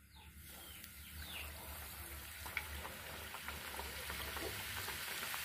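Coconut rolls made with wheat flour frying in hot oil give a faint, continuous crackling sizzle that slowly grows a little louder, with light background noise.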